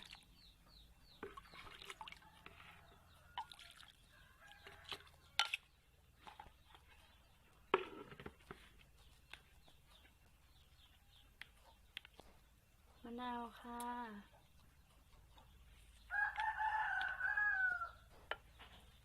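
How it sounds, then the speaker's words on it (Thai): Chickens crow and cluck in an outdoor setting, faint to moderate, with scattered calls and a louder crow near the end, while someone talks at times. "ก็จะได้ยินเสียงไก่รบกวนหน่อยนะคะ"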